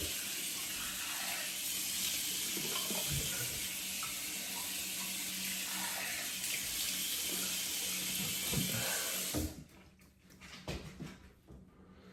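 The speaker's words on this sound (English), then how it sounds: "let me get a quick rinse here" A bathroom tap runs steadily into a sink for a post-shave rinse, a continuous close hiss with faint splashes under it, then the flow shuts off and a few soft handling noises follow.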